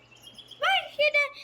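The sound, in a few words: tropical birds sound effect in Scratch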